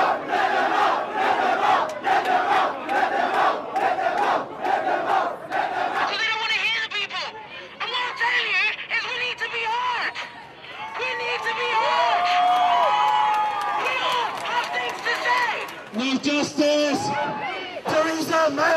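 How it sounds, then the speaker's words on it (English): A large protest crowd marching toward Grenfell Tower in London, chanting and shouting in loud rhythmic bursts, with scattered whoops and chatter and individual voices rising over the mass. "The crowd marches back to Grenfell Tower."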